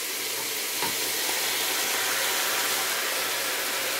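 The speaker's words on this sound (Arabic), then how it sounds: "So I'm gonna fry the shrimp with the vegetables until the shrimp color change." Shrimp frying with onions and tomatoes for kabsa: a dense, even hiss of sizzling oil, close and steady, with a faint utensil tap near the start and no talk.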